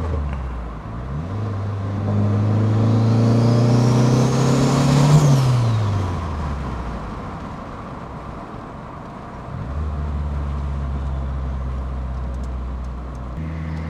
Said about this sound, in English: First time I'm actually driving a car